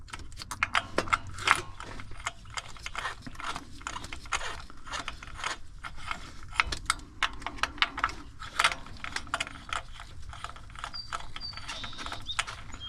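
Screws being twisted in by hand produce a run of small ratcheting clicks and crunchy mechanical ticks, close and fairly busy, continuing for several seconds without talk.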